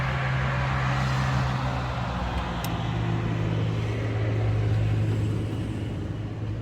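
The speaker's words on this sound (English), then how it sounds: "Tractor going by." A tractor drives past near an outdoor brake repair on a 2002 Chrysler Town & Country, giving a steady, fairly loud low engine rumble that holds throughout with no talking.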